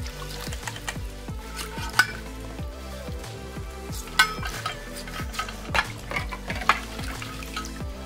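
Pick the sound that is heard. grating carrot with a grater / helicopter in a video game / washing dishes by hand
washing dishes by hand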